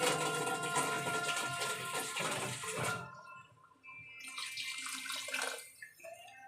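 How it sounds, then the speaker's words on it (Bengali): Water splashes from a vessel into a pot of vegetable khichuri with rice, dal, potato and cauliflower. It comes in two gushing pours separated by a short pause, close but fairly soft, with no voices. "এবার আন্দাজ মতো জল দিয়ে দেবো।"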